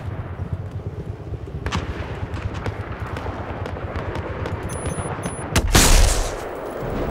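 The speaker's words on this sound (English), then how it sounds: "This is a sniper railgun." A sniper railgun in Battlefield 4 fires one heavy, booming shot that stands out near the end over steady, rattling background gunfire and distant battle noise.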